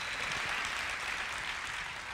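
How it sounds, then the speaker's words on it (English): An audience at The Faith Center breaks into steady applause, a dense, even wash of many hands clapping throughout with no voices over it. "I thought that would be a great place to clap."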